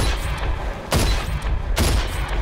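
Gunshots in the video game Rage: two loud, sharp blasts about a second apart, up close over a constant roaring background of game noise.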